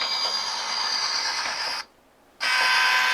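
A steady ringing electronic bell tone from a Bachmann N scale DCC model train's small speaker, cutting out briefly for half a second before resuming, close and fairly loud.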